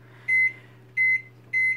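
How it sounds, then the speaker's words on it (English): A steady low microwave hum runs throughout as ice cubes are heated, broken by three evenly spaced, bright electronic beeps, each lasting about a quarter second. "Now it goes in the microwave for"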